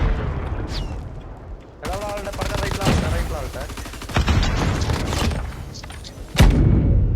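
Rapid bursts of gunfire in Call of Duty Mobile during a Search and Destroy match, dense volleys running almost continuously with a sharp heavy boom near the end.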